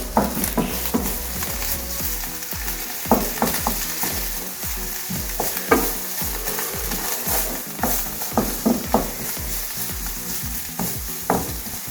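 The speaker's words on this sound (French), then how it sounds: "Donc là on va pouvoir touiller" Food fries in a pan in a holiday cottage kitchen and is stirred repeatedly, irregular scraping strokes over a steady close sizzle.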